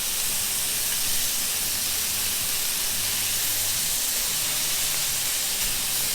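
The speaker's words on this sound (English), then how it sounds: "in order to get it black, we are searing the shrimp" Cajun blackened shrimp sear in hot oil over high heat, giving a loud, dense, unbroken hiss that holds steady throughout with no talking.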